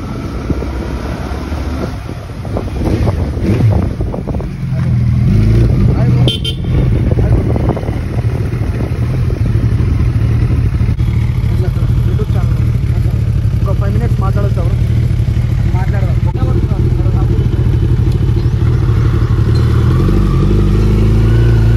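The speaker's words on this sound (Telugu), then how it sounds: "Oh super bike." A powerful motorcycle engine rumbles loudly and steadily throughout, with some revving early on and background voices mixed in.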